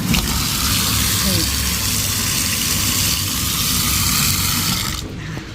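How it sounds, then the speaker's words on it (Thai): Tap water gushes hard and steadily at a campsite dishwashing sink beside a river, a dense close rush running for several seconds before abruptly dropping away. "น้ำไหลแรงมาก"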